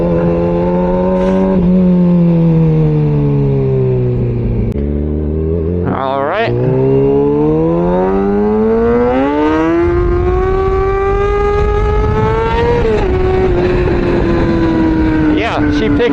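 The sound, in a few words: Kawasaki ZX6R motorcycle accelerating through gears with exhaust pops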